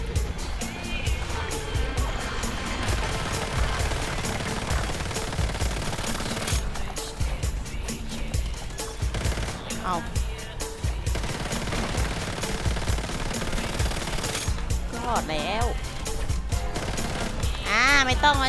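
Rapid automatic gunfire from a fight against a boss in the shooter game Once Human, dense and continuous with music and effects, with people talking over it throughout.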